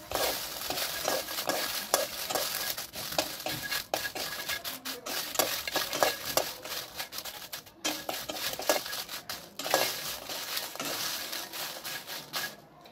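Dried red chillies dry-roasting in a pan for homemade Maharashtrian masala, stirred continuously with a steady rasping, scraping rattle and light crackle, close and unbroken for the whole stretch.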